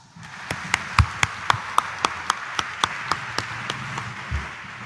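A church congregation claps together in a steady, evenly spaced rhythm of about a dozen distinct claps over a low hum of the crowd, loud and reverberant in the church hall.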